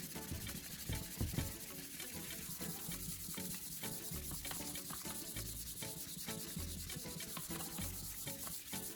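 Fine P1500 sandpaper rubbing back and forth over a plastic car headlight lens, a steady rhythmic scratchy sanding close up and continuing throughout.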